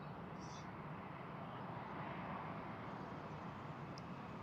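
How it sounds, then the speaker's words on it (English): An Etihad Airways Boeing 787 Dreamliner in Green Liner livery departs Frankfurt Airport for Abu Dhabi, heard as a steady, broad, distant jet roar that holds even and faint throughout. "the Etihad Airways, the Green Liner livery, off to Abu Dhabi, Dreamliner"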